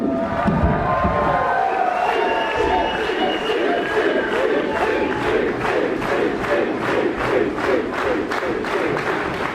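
A large wrestling arena crowd at an independent show roars and cheers, then settles into rhythmic, evenly spaced clapping that grows steadier; loud, dense and continuous throughout.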